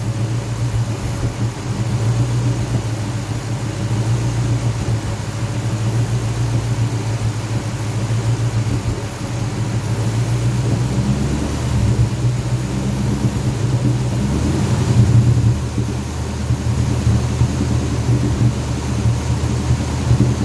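Homemade racecar V8 idling with a low, steady rumble and slight popping through the pipes, its intake wide open, loud and continuous throughout.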